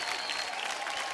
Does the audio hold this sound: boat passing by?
no